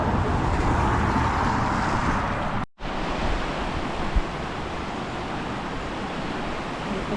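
A swollen river after rain, on a walk near Alston toward the Pennine Way in the UK, rushes as a steady, dense roar of flowing water. It stays constant and fairly loud throughout, with one brief dropout.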